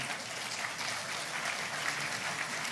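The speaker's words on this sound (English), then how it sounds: "a human and a thunderous round of applause, not an AI round of applause" Thunderous audience applause welcoming the Speaker of Ghana's Parliament at a national AI strategy launch, a dense continuous wash of clapping filling the whole stretch without talk.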